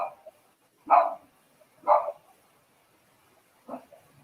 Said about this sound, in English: Someone's dogs are barking.